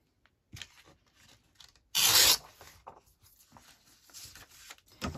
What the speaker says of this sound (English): So I'll just rip that.